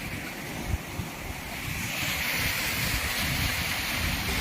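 A waterfall gives off a steady, broad roar of rushing water, close and continuous with a slight wind-like hiss and no speech.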